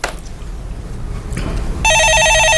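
Telephone ringing on a Korean stock market call-in broadcast, a sharp electronic ring bursting in loudly near the end after a stretch of low studio noise.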